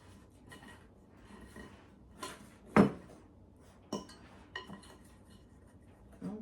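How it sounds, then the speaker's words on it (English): A utensil scraping flour down the edge of a mixing bowl while making buttermilk scones, a few soft scrapes and clinks with one sharper knock, fairly close and quiet. "Make sure you get all of your flour in there, scrape down the edge of your bowl."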